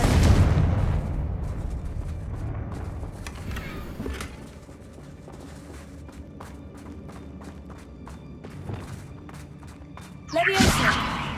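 A Confringo fire spell explosion in Hogwarts Legacy: a loud burst at the start that fades into quieter rumbling and scattered clicks, then a second sharp, bright blast near the end, with a voice heard partway through.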